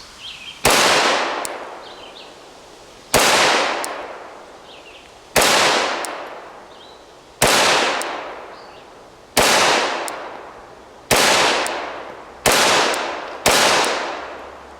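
A Glock 41 Longslide .45 ACP pistol fires eight sharp, loud shots at a range, spaced roughly every one and a half to two seconds, each blast ringing out with a decaying echo.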